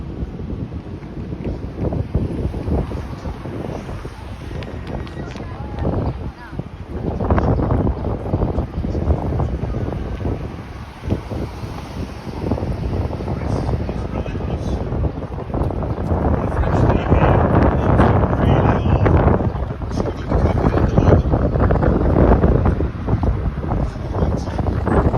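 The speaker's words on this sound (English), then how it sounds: "Wind is really going strong." Strong wind gusts buffet the microphone outdoors in downtown Toronto near St. Andrew's Church, a steady roaring rush that swells louder toward the end, with a brief spoken remark partway through.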